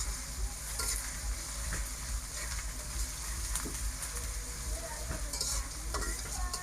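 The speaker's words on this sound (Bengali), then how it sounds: "পেঁয়াজ রসুন একটু হালকা একটু ভাজা নেব" Onion and garlic paste frying in a village kitchen, a steady, loud, close sizzle with continuous scraping and stirring sounds throughout, no talk.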